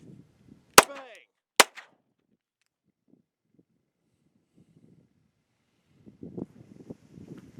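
A handgun slide is struck and then racked in an immediate-action malfunction drill: two sharp, loud metallic snaps about a second apart, followed by quiet handling and faint outdoor rustle.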